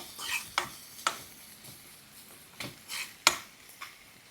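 Onions, green chillies and curry leaves sautéing in a pan for quail egg cutlets, heard as faint sizzling broken by several sharp scrapes and clinks of a spoon stirring against the metal.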